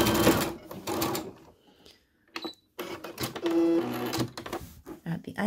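A sewing machine running short stitching bursts on a flat felled seam at 2.5 stitch length, close and fairly quiet, with brief pauses between runs.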